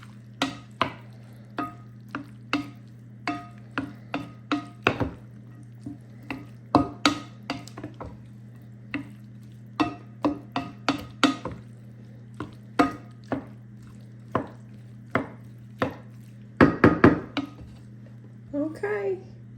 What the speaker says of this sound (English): Now I'm going to stir well and combine everything.